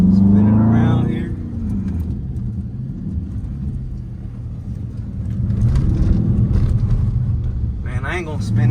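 A Dodge Scat Pack with its mid muffler removed revs hard up close, a deep rumbling exhaust that swells and falls, with someone talking over the engine at the start and end.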